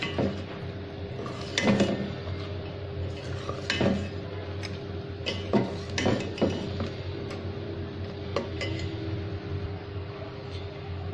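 Tomato-onion paste and spices being stirred in a cooking pot for mutton chop gravy, with repeated scraping and clinking of a spoon against the metal pot over a steady low background hum.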